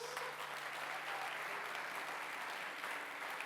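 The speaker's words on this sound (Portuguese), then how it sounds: "Vamos dar um aplauso para todos os anônimos." Steady audience applause from a church congregation, a dense continuous wash of clapping hands held at an even level throughout, with no voices rising above it.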